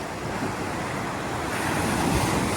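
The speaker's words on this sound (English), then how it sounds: "It has waves like an ocean." Waves break along the shore of Lake Superior, the world's biggest freshwater lake, as a steady, close rushing surf mixed with wind noise. No voices are heard.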